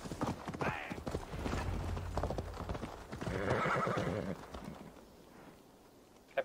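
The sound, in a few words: horse hoofbeats in video game Assassin's Creed Valhalla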